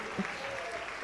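Congregation clapping at a church baptism service, a short burst of applause that sits fairly low and diffuse, with a voice briefly heard over it.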